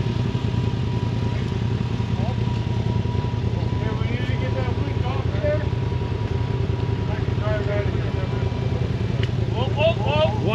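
A UTV side-by-side idles and rumbles steadily on a night trail ride, a low continuous engine drone under voices talking throughout.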